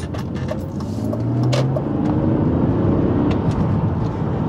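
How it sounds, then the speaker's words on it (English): Steady engine and road drone from a straight-six BMW on a drive, a continuous low rumble with tyre and wind noise inside the car, loud and unbroken with no voices. "And it's not too pronounced in its engine note either."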